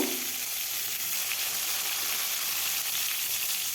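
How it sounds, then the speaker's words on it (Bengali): Eggplant slices frying in oil left from frying pabda fish give a steady, close hiss of sizzling with fine crackle, starting with a brief thud as they go in. "ওই মাছ ভাজার তেলেই বেগুনগুলো ভেজে নেব"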